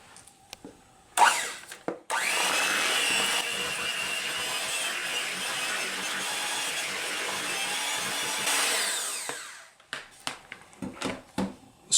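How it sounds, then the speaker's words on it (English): Hand mixer running at low speed to combine butter and cream cheese for carrot cake, a steady whirring drone lasting several seconds, framed by clinks of the beaters against the bowl before and after. "take the butter and the cream cheese, and with our hand mixer, we're just going to combine them at low speed"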